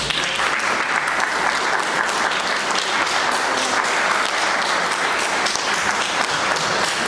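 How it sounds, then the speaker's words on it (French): An audience applauds hospital staff with steady, dense, sustained clapping, even in loudness throughout and with no talk over it. "et on peut les applaudir"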